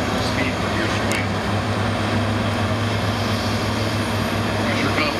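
A John Deere 437D log loader with a dedicated swing pump runs steadily while delimbing and stacking logs, a loud, constant engine and hydraulic drone with no break.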